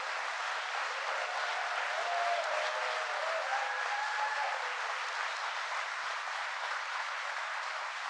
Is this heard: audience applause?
yes